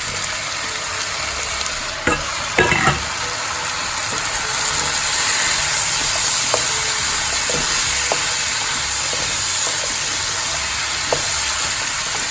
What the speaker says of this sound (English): Now let it just sizzle on high heat for 4 to 5 minutes so that some of the onion edges can caramelize